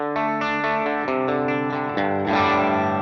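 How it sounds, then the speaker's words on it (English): Heavily processed metal electric guitar through an AX8 tonepack with a tube screamer in front of the amp, playing sustained distorted chords with chorus and echo, loud and alone, changing chords roughly every second. "the metal amps will have a tube screamer in front, usually on to tighten them up to get you the djent sound"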